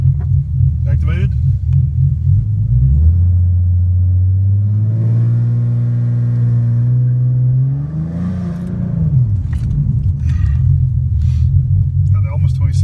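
A car engine on a transbrake test, revving up and holding at high rpm for several seconds with a rising then falling pitch, loud and close, with people talking over it.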